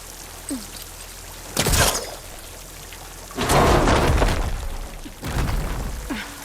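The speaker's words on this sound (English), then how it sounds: "Water's coming from that vent." Water gushes from a vent in Horizon Forbidden West, coming as three loud broadband bursts of pouring, splashing water over a quiet ambient background, each surge lasting about a second or two.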